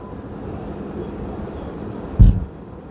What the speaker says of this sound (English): And this is what the train looks like.